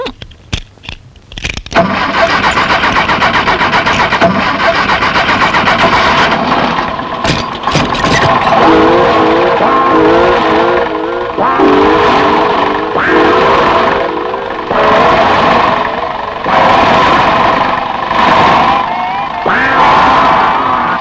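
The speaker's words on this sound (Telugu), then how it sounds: "My dear Bujji, come on start." A car engine cranks loudly and close by, sputtering in repeated pulses as it struggles and fails to catch.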